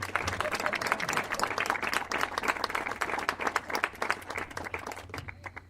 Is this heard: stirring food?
no